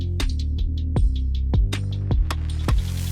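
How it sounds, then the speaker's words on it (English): Zero gap hair trimmers cleaning up stubble during a haircut: a steady electric buzzing hum broken by about eight short scraping strokes at a fairly even rhythm, close and with no talking. "So right here we're going in with our zero gap trimmers and just cleaning up any little stubbles that my clipper missed."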